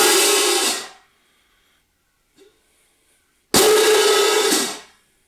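A pair of hand cymbals held together gives two bright, hissing sizzles: a short burst that fades within a second, then after a pause a second, slightly longer sizzle that cuts off cleanly.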